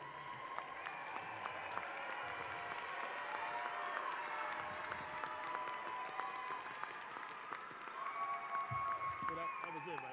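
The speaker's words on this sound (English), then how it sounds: "One more big round of applause while our last remaining graduates go through the line" Graduation ceremony crowd applauding the 2022 graduates as they file through the line, a dense, steady wash of clapping with scattered cheers and voices blended in, sustained and fairly distant.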